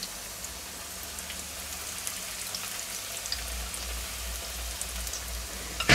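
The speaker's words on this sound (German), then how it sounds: "Also im Prinzip ist es jetzt ja auch schon frittieren." Zucchini and kohlrabi fry in oil in an upturned pot lid set on a grill, giving a steady, dense crackling sizzle like light rain that holds evenly throughout, with a faint low hum beneath and no talk.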